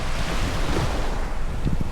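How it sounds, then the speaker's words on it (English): Surf rolling onto White Beach in Puerto Galera, Philippines, a steady broadband wash of breaking waves mixed with wind buffeting the microphone, continuous and fairly close with no voices. "listen to the sounds of the waves"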